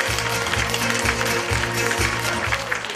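Applause from an audience at a contest show, broad and steady clapping filling the room, with a rhythmic low thumping beat of music running underneath.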